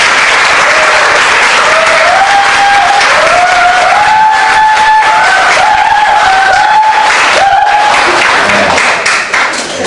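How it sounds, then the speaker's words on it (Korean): Loud, sustained applause from a lecture audience in Daejeon greets former Health and Welfare Minister Yoo Si-min, a dense wash of clapping with a few voices and whistle-like tones riding over it, easing slightly near the end. "그럼 유시민 전 대표를 뜨거운 박수로 맞아주십시오."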